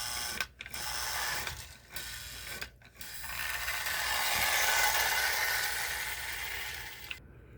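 A Lionel 1668 Torpedo O gauge model steam locomotive running, a close, steady mechanical whir and ratcheting gear clatter, briefly interrupted by short gaps before the motor sound rises and continues to the end.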